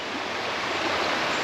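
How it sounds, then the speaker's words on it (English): Henrietta Creek in Far North Queensland rushes along in a steady, full broadband wash of flowing water, close and loud, with no talking. "Henrietta Creek, running all the way down"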